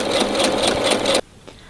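A sewing machine runs a regular stitch around a fabric shoe bag, a fast, steady mechanical whir lasting just over a second before stopping abruptly.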